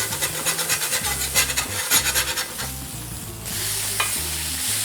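Smashburger patties sizzle loudly on a hot griddle just after being flipped, a bright crackling hiss over rhythmic scraping of a spatula against the metal surface, close and with no talking.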